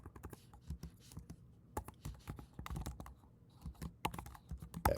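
Rapid, close keystrokes of someone typing code on a computer keyboard, a busy clatter of clicks in quick irregular runs with brief pauses.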